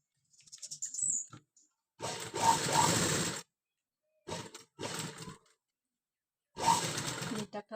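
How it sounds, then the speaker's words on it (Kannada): Sewing machine stitching around the neckline of a boat neck blouse, running in three separate bursts of rapid mechanical clatter with quiet pauses between them. "ಇಷ್ಟಾದ್ಮೇಲೆ ನಾವು ಸುತ್ತೋದನ್ನ ಸ್ಟಿಚ್ ಹಾಕೊಂಡು ಬರೋಣ."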